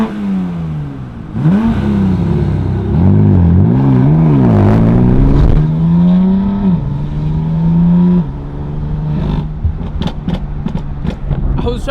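Car engine revs hard in a failed launch-control attempt on a city street, a loud rising and falling whine that climbs, wavers, then settles into a steady drone with brief clicks at the end.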